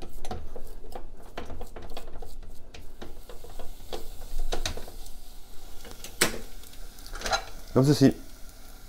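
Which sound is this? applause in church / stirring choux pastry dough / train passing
stirring choux pastry dough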